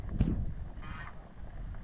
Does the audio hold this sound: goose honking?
yes